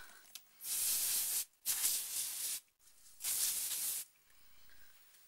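Three long bursts of aerosol spray hiss close by, each lasting about a second, separated by short pauses, with no talking.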